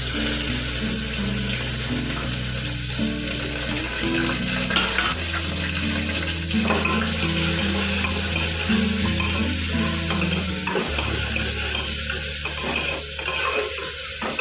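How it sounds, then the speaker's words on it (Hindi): Whole spices and onion frying in a pan for chole bhature, a dense, continuous loud hiss with a watery, running-tap quality, close up for the whole stretch, while a low hum and a faint musical tone sit beneath it. "फिर मैं ये थोड़े से मेरे खड़े मसाले इनको डाल दूंगी और फिर डाल दूंगी इसमें मैं ये प्याज"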